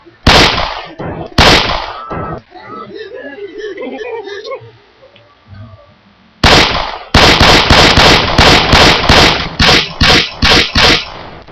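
Gunfire in the video game Left 4 Dead 2 cracks out in two early single shots, then rapid, loud bursts of repeated shots, with voices talking between them.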